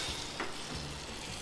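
Butter melting in a pan over low heat, giving a steady soft sizzle and faint frying crackle, with no voices.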